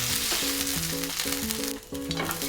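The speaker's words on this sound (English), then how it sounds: "Add the onions to the same pan and stir fry until they soften and turn translucent." Onions stir-frying in a pan for Japanese ginger pork, a loud close continuous sizzle over a bright musical backing.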